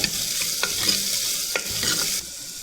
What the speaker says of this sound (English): Now mix it thoroughly. Let onion get transparent color.